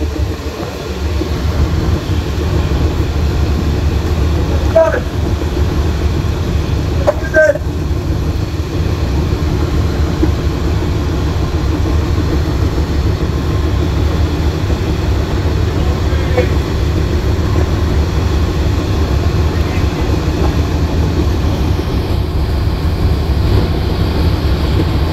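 Passenger launch Sundarban 16 overtaking launch Bogdadia 12 on a river between Dhaka and Barishal. A loud, steady low engine drone runs the whole time.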